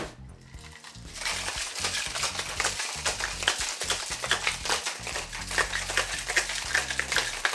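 Ice rattling hard inside a cocktail shaker as a Jungle Bird with Jamaican-style rum such as Appleton Estate is shaken, a fast, steady clatter that starts after a brief quiet moment and continues loud to the end, with no talking.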